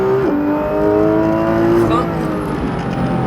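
A Porsche 991 GT3 RS at full throttle in third gear on the La Ferté circuit, the engine note dropping with a shift and then climbing loud and steady, heard close from the cabin with a voice talking over it.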